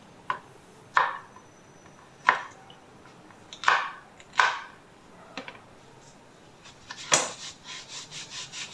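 A knife chops okra on a board, giving a series of crisp, separate cuts at an uneven pace, close and moderately loud, followed by softer scraping taps.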